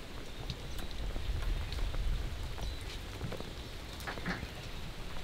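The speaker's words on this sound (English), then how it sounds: "Too much rain." A rain squall pours down steadily over a workshop setting, a dense continuous wash of falling water with scattered louder drops and spatters, sustained and fairly close with no talking.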